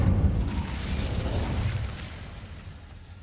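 Hogwarts Legacy's Incendio fire spell goes off as a loud whooshing burst of flame that rumbles and roars, then fades away over a few seconds with no voices.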